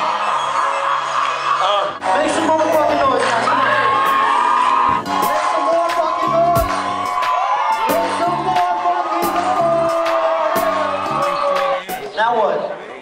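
A live party crowd cheers, whoops and shouts loudly and continuously for about thirteen seconds, with tonal music and voices mixed into the roar.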